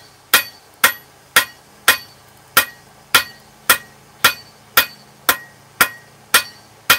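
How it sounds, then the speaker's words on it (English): A blacksmith's hammer striking hot steel on an anvil while forging grill tools, about thirteen evenly spaced, ringing blows, loud and close, with no talking. "I'm only hitting with this part of my hammer in the same spot."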